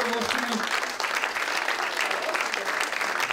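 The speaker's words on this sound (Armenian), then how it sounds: "Խնդրում ծափերը ողջունեմ" Audience clapping in a hall at a community music event honoring a longtime leader, a steady dense burst of hands continuing throughout without pause.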